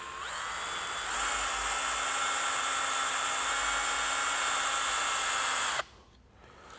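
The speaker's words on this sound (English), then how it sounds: "Now I am going to run them in with my drill. It's not an impacting one." Whining electric drill, a non-impact type, running in bolts on a 2005 Subaru Forester cylinder head: a steady high motor whine that shifts pitch partway through, then cuts off abruptly near the end, leaving quiet workshop room tone.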